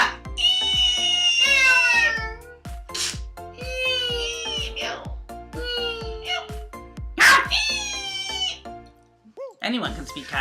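Human voices imitate cat meows, several drawn-out, whiny mews in a row with some laughter and talking between them.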